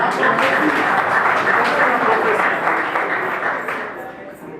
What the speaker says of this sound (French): Applaudissez aussi.